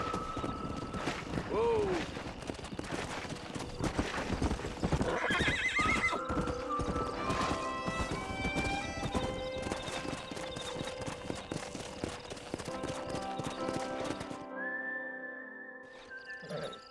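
Horses in the Red Dead Redemption video game, hooves clip-clopping steadily with whinnies and neighs over a busy game soundtrack, a voice calling out briefly, ending in a quieter tail.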